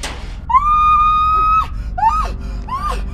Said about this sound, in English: Someone just screamed.